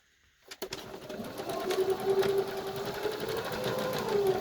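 A home sewing machine stitches a quarter-inch seam on a fabric hospital mask, starting after a brief quiet moment and then running in a steady, continuous whir at close range, with no talking.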